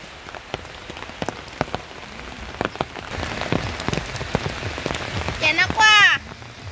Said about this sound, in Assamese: বৰষুণ কমাই নাই